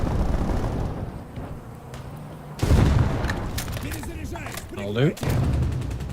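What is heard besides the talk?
gunfire resembling a .50 caliber machine gun in video game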